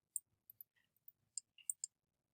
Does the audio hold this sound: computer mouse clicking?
yes